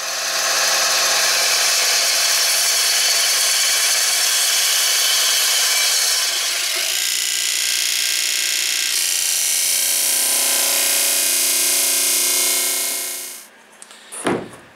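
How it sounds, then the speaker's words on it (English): A power tool cutting and sanding a wooden spar part for a teardrop trailer, loud and close as a continuous high whine that shifts in tone midway, then stops with a few brief handling knocks. "let's get that cut and sanded"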